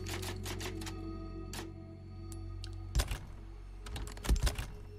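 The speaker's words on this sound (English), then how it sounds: "Where is the typewriter?" A typewriter save in Resident Evil 4 Remake comes through as a quick run of crisp mechanical key strikes, then a pause, then heavier clacking bursts and a final carriage thunk, close and fairly quiet.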